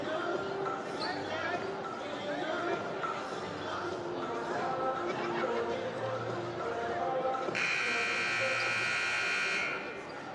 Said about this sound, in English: that's our go time buzzer